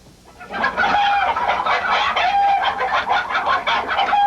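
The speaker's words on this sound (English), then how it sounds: "that's actually a chicken riot recorded with a group of chickens" A group of chickens, recorded as a film sound effect, cluck and squawk together in a dense, agitated chorus, loud and close with rapid overlapping calls throughout and no talking.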